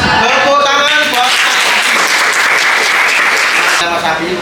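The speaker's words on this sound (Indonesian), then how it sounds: "Tepuk tangan buat" An audience breaks into strong, sustained applause, a loud even wash of clapping lasting a few seconds before tapering off.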